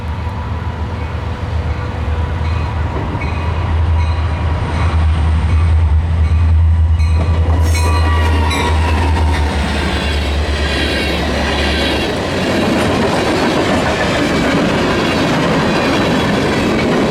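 An eastbound CPKC freight train passes close by with loud low diesel rumble, then rolling wheel clatter and squeal as the cars go past, heard alone throughout.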